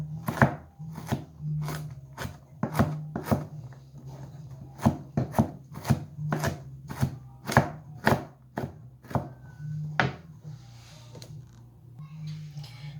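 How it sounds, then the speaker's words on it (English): A knife mincing cauliflower on a cutting board for cauliflower fritters: a steady series of crisp, close chops, roughly two per second, then a short trailing pause. A faint hum sits underneath. "The cauliflower should be minced."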